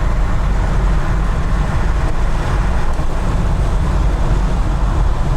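A 1969 Mercedes 300 SEL on the road over bumps, giving a steady, loud low rumble of engine and road noise that stays constant throughout, with no talking.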